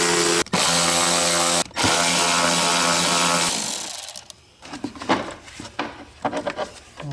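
Electric ratchet with an 8mm socket backing out airbox screws on a Jeep JL Wrangler: a loud close buzzing motor runs in short bursts with brief pauses, then gives way to clicks, rattles and handling noises of parts.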